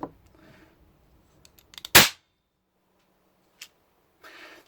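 A wheel lock converted to percussion cap fire snaps off a cap, one sharp, loud crack standing alone in quiet, preceded by faint clicks of the mechanism and followed by a small tick.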